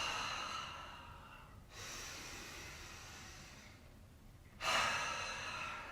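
During a power yoga session, close, soft, breathy exhales rise and fall, with a long airy breath at the start and another stronger one near the end, and no speech.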